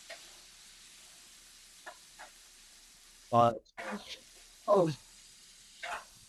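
Tomatoes sizzle and get stirred in a pan as part of a cooking demonstration, a faint steady hiss under a few brief spoken words.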